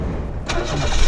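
A 1993 Mitsubishi Bravo engine with five valves per cylinder catches with a sudden loud burst after a brief crank, then settles into a steady low rumble.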